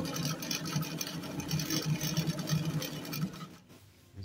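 Vintage Singer sewing machine running a three-step stitch on stretchy, elastic fabric, a steady close mechanical whir with a rapid pulsing rhythm, stopping abruptly near the end with a short quiet gap, no voices.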